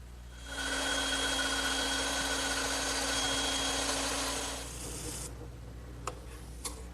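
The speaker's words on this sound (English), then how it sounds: "I'll just trace the outline and cut it over on my bandsaw." A bandsaw cutting a traced leaf shape out of wood in a workshop, giving a steady loud whirring hum with a high whine for about four seconds, then dropping to a lower spin-down with a couple of sharp clicks.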